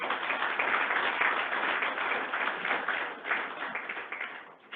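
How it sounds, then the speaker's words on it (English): Employees at an Iowa DOT recognition ceremony give steady applause for 35-year veterans, a continuous moderate clapping that thins out toward the end. "Let's give our 35-year veterans a round of applause."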